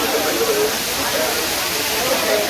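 Kutralam waterfall pours in a steady, broad rushing hiss that fills the whole span without a break, with voices faint beneath it.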